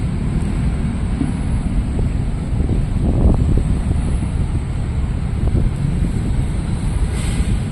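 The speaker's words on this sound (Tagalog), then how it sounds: "So mahangin lang." Wind blows hard across the microphone at Manila Bay, a continuous loud low rumble with a few faint knocks and no talking.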